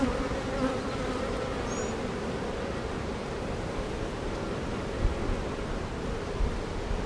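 Honeybees swarm over an open hive during a mid-June inspection of a colony preparing to swarm. Their dense, constant buzz stays close and loud throughout, with a few faint knocks and no talking.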